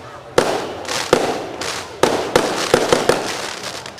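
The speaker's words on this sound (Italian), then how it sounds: "I fuochi d'artificio all'ombra della torre del Castello Aragonese di Castrovillari hanno chiuso l'edizione 2017 di Civitanova" Fireworks burst near the tower of the Aragonese Castle in Castrovillari, closing the 2017 Civitanova festival, with a series of sharp bangs and crackling trails at irregular intervals.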